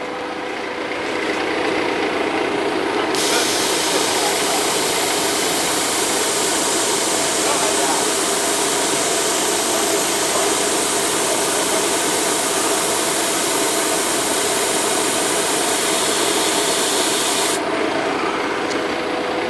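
An automatic CNC machine for labeling and loading/unloading moves to touch its tool-length sensor, a steady, loud broadband rushing and whirring that swells after a few seconds and holds evenly before easing near the end.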